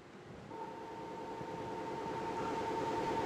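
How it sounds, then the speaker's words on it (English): Light curve of a heartbeat star converted to sound and sped up thousands of times: a steady, thin pitched tone hums over a rushing, hiss-like noise bed that grows slightly louder, with no talking. "If you take this waveform and speed it up by a factor of many thousand, you get something that sounds like this."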